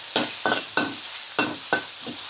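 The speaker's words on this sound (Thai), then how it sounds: "ผัดให้หอมหอมเนื้อลงไปผัดต่อ หมูแดดเดียวนะคะ" Sun-dried pork being stir-fried in a hot pan, sizzling with several rhythmic scraping strokes of the spatula, close and clear with no talking.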